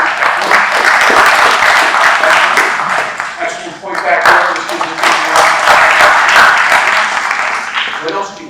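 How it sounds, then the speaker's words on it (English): An audience at an inspirational leadership talk gives a loud, close round of applause, dense clapping that dips briefly midway and then swells again, with a voice speaking over it. "round of applause over here"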